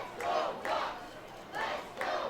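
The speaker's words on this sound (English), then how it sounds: "Let's go, Ducks chant up from the crowd" A baseball crowd at a Ducks game chants "Let's go, Ducks" in rhythmic, distant-sounding bursts, with two chant phrases repeating across the stadium.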